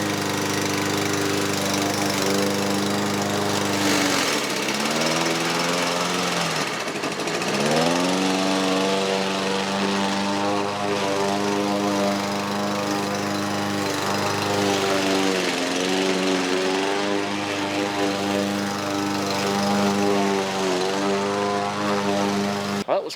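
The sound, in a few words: lawn mower shredding an object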